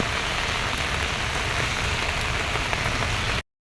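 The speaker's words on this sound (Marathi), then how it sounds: "भरपूर पाऊस चालू आहे" Heavy rain pours down in a dense, steady roar, loud and close, with no voices, then cuts off abruptly.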